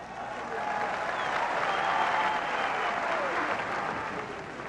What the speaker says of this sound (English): Getting a huge ovation here from the crowd.